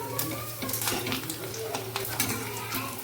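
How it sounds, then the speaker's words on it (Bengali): Puchka shells fry in oil with a continuous bubbling sizzle and scattered crackles, a low steady hum underneath and a few utensil taps close by. "এখন এগুলো সবগুলোই ভেজে নেই"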